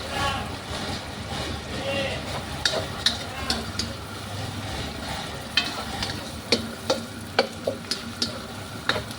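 Onion, garlic and ginger browning in a pan for coconut-milk dinuguan give a steady low frying sizzle with stirring, broken by sharp ticks and clicks of a utensil against the pan.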